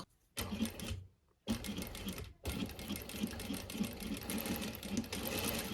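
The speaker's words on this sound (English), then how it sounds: "use our machine to sew straight onto this part here, a straight line." A sewing machine stitches a straight line on a jet pocket, running in fast steady bursts with a brief pause and a short gap between runs, close and loud with no talk.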